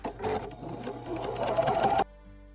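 Sewing machine stitching a dress with a tulle skirt, running in a steady fast burst for about two seconds and then stopping abruptly, close and clear.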